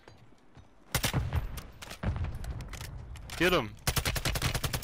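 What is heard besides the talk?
gunfire in the video game Call of Duty MW3 Warzone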